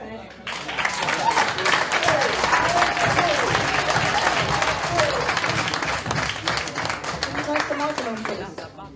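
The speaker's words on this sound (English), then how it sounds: "Can we give him another clap, please?" Audience members at a talk by Dr. Umar Johnson break into sustained, loud clapping, with a voice speaking over the applause as it slowly thins out.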